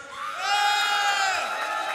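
Studio audience cheering and whooping in a loud, sustained wave of shouts that swells and holds for two seconds, with no clapping clearly standing out.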